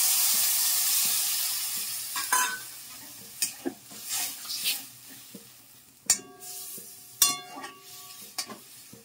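Water used to rinse ground mustard paste is poured over vegetables frying in a pan. A hiss sounds first and fades, then a few sharp scrapes and clinks of stirring ring against the pan, up close and without talk.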